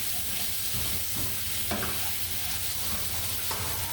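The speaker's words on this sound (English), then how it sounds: "We're gonna cook these apples until they get really soft and brown and caramelized." Apples sizzle steadily in a hot pan while being stirred, with soft scraping and clinking from the utensil over a constant frying hiss, close and without talking.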